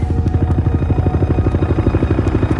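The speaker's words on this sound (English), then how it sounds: "rushes to the crash site in a Navy helicopter" A Navy helicopter flies toward an ocean crash site, its rotor thudding in a steady, fast rhythm over a loud, continuous engine roar throughout.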